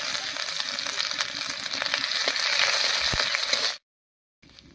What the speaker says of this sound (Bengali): ফোড়নের সঙ্গে আদাটাকেও ভেজে নিয়েছি